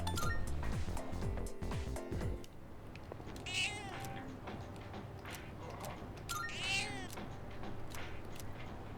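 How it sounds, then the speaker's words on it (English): A cat in the video game Persona 3 Reload gives two clear, rising meows a few seconds apart, following a short burst of clinking game sounds, all fairly quiet. "Cat is purring loudly. It seems happy."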